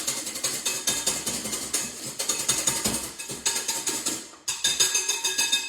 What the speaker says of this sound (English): Hopefully your eggs are whisking up nicely.